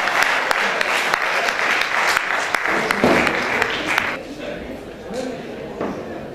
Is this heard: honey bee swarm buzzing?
no